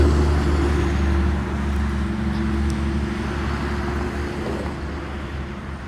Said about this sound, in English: Oh, we got a big truck coming, so hold on.